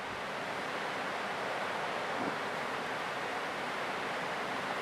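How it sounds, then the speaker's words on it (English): Strong, steady 25-mile-an-hour wind roars across the microphone aboard a self-propelled barge, a dense, continuous rushing noise with no other sounds. "I'll let you hear the wind for a second."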